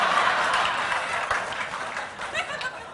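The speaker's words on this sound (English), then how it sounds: "Does it ever get old for you, that kind of applause?" Studio audience on a talk show clapping and cheering, a broad wash of applause that starts full and gradually tapers off.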